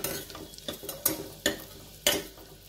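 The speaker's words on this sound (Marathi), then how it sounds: "लसूण फार लाल करायचं नाहीये, अगदी थोडासा परतायचा आहे." Garlic lightly sautéing in a pan for a pumpkin-tomato soup: a soft, steady sizzle broken by four or five sharp stirring scrapes at uneven intervals, close and alone with no talking.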